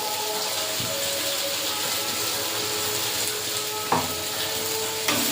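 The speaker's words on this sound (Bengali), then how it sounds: "মশলাটা কষানো হয়ে গেছে মশলা থেকে তেল ছেড়ে গেছে ওরা ভেজে রাখা আলুগুলো দিয়ে দিন" Fried potatoes stirred into spice paste frying in oil for a spicy snakehead fish curry, giving a steady close sizzle with a few sharp scraping clacks of the spoon against the pan.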